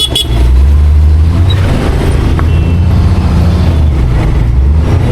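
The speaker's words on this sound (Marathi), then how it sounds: "मस्तपैकी ट्रॅफिक झालेलं आहे इकडे." Heavy road traffic near a bus stop, with a steady loud low engine rumble from cars, buses and trucks close by throughout, plus a brief hiss of an air brake.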